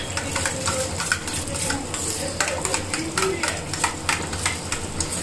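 Biryani tempering sizzles steadily in a pot while a spoon scrapes and stirs in irregular strokes, with kitchen clatter and rice water boiling nearby.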